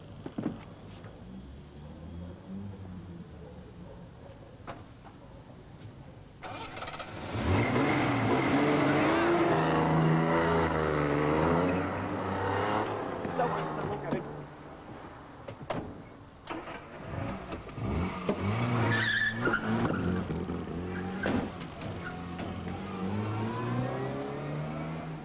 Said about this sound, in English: pursuing stolen car, west along Denmark Street.